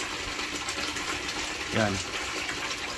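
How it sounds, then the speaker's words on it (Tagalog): Natural spring water flowing from a mountain in Barangay Bacong, a loud, constant close-up rush and splash; someone briefly speaks over it. "Ayan yung bukal ng tubig. Ayan, galing dyan sa bundok."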